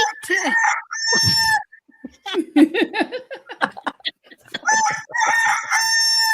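A rooster crows cock-a-doodle-doo loudly and close at the start and again near the end, with fowl clucks and scattered laughter in between.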